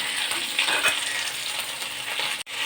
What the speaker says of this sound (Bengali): তেল দিয়ে কালো জিরে দিয়ে এর মধ্যে পটলগুলো ছেড়ে দিয়েছি। পটলগুলো ভাজা ভাজা হোক